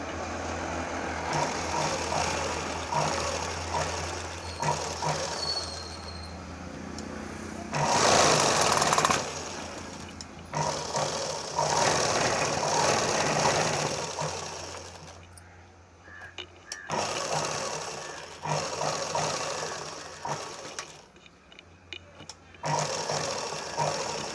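Sewing machine stitching the lining of a blouse, a steady close mechanical whir running through most of the stretch with a few brief pauses, while someone talks over it.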